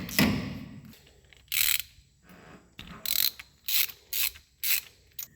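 Spark plugs being broken loose on a Chrysler Cordoba engine with a ratchet: a sharp initial crack, then a series of quick close ratcheting bursts in an irregular rhythm with pauses between.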